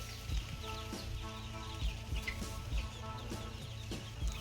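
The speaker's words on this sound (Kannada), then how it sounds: "ಗಿರಿರಾಜ ಕೋಳಿಗಳು." Giriraja chickens cluck and murmur nearby in a continuous, overlapping chatter, with a few sharper calls rising out of the flock.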